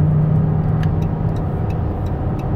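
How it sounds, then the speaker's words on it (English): A 2014 Dodge Caravan SE wheelchair van cruises on the highway at about 65 mph, heard from inside as a steady low road and engine rumble with faint ticking clicks, continuous and fairly loud. "A little bit of traffic out this morning, popped up to about 65 miles an hour, no problems."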